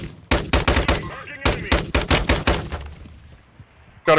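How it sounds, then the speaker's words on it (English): Rapid gunfire bursts in the Warzone battle royale video game, a string of sharp, loud shots in quick succession that tapers off before one last close burst at the end. "Got a couple shots on him"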